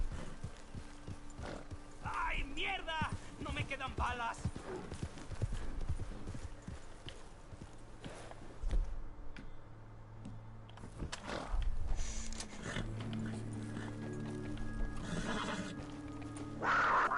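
Red Dead Redemption 2 horse clip-clopping along at speed with several loud whinnies and neighs; hoofbeats run steadily throughout, with a brief quieter stretch in the middle.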